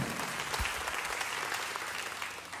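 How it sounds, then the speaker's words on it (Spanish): Church congregation applauding during a sermon, steady dense clapping heard from a distance, fairly faint and continuous throughout. "Un aplauso para él."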